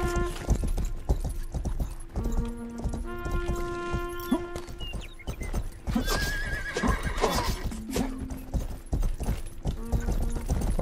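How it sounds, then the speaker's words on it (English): Horse hooves clip-clop in the Rustler video game, mixed with a horse's whinnies and tonal game music, rhythmic footfalls continuing under the score at moderate level. "I need to take the horse back."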